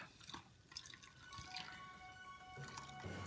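Water poured and dripping onto a doll's hair, quiet close trickles and drops with small splashes, faint and uneven.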